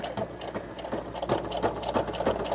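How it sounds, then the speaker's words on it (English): A sewing machine stitches a fabric face mask, running continuously at a rhythmic, pulsing chug close by, with no talking. "just sew all the way to the end"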